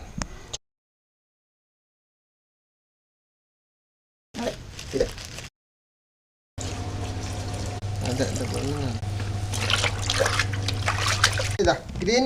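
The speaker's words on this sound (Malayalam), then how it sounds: "കുറച്ച് ഡെറ്റോൾ എടുത്തിട്ട് ഈ വെള്ളത്തിലേക്ക് ഇങ്ങനെ ഒഴിക്കുക." Dettol is poured into water for cleaning mushroom-growing nets, a trickling, splashing pour that runs steadily through the second half after short bursts of speech separated by silence.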